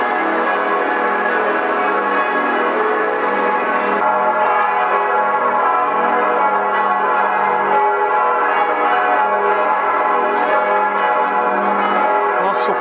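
A church bell rings out over the town square in Osnabrück, loud and sustained, its humming tones carrying steadily throughout with a brighter layer dropping away partway through.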